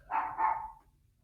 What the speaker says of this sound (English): Can you guys hear my dog barking?